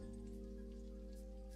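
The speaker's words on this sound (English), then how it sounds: "But right now it's raining super hard." Heavy rain falls outside in a steady, dense, hissing wash with no gaps, heard alone from indoors.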